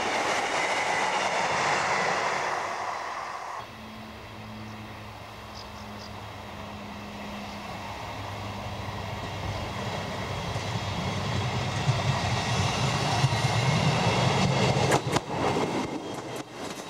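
A train running through the Hope Valley in the Peak District, a steady rumble of rolling wheels and engine that swells gradually louder and nearer over the span, with a low droning tone partway through.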